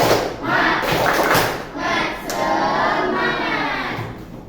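A Year 9 classroom does the rhythmic tepuk semangat spirit clap, with dull hand thumps and claps in a set pattern mixed with children's voices chanting along, all close and loud.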